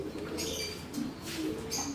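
Pigeons coo softly and repeatedly inside a loft of breeding birds, low murmuring calls recurring at a steady pace over a hushed background.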